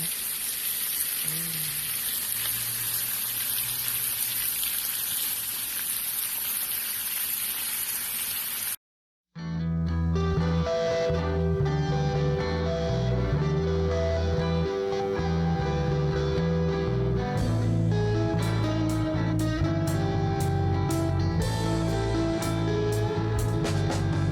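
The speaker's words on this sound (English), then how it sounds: "my favorite sound, y'all. Sizzling bacon." Loud, steady sizzling and crackling of bacon frying for about nine seconds, then an abrupt cut into music.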